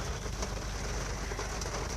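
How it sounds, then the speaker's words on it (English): Steady rain falls outside, a dense, even hiss of drops on surfaces that holds unchanged throughout, with no voices over it. "It's raining outside here."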